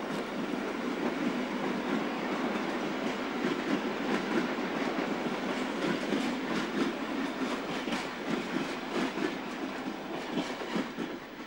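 Belgian electric four-car train passing close alongside a steam train near Mechelen, a steady loud rolling rumble with rhythmic clickety-clack of wheels over rail joints sustained throughout, no voices.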